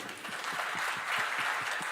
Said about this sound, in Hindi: साथियों के लिए भी ज़रा जोरदार तालियां हो।